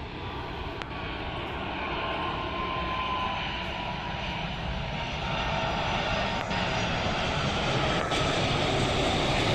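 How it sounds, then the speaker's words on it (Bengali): Sri Lankan Airlines Airbus A330 approaching Dhaka airport, a steady, loud broadband engine roar that holds evenly throughout with no talk. "আপনারা দেখতে পাচ্ছেন স্ক্রিনে এগিয়ে আসছে শ্রীলঙ্কান এয়ারলাইন্সের একটি বিশাল বড় বিমান"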